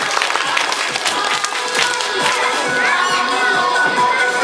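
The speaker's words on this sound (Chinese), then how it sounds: "掌声鼓励。" Audience clapping and cheering from a crowd with children at a farm animal theatre after a macaw show, a dense, loud burst of applause with shouts mixed in.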